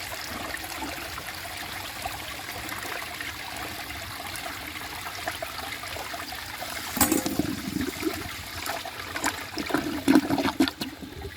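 A 1968 Montgomery Ward Waco toilet flushing, starting with quiet trickling water before a sudden strong rush of swirling, gurgling water that surges and drains noisily, close by.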